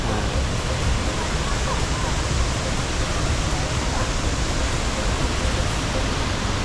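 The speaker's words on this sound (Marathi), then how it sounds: "तर धबधबा तर मोठा आहे बस जरा पसरलेला आहे" A large, wide-spreading waterfall roars as a continuous, even broadband rush, close and loud throughout.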